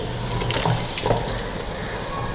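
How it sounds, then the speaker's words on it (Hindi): Water poured from a vessel into aloo keema, minced beef and potatoes, frying in a pan, giving a splashing, gurgling pour with a light sizzle underneath, close and fairly loud. "इसके अंदर हम थोड़ा सा पानी डालेंगे"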